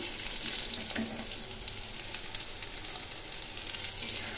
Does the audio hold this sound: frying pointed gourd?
yes